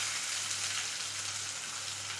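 Onion and capsicum frying in a pan with curry leaves: a soft, even sizzle and hiss, fairly faint and continuous, without talking.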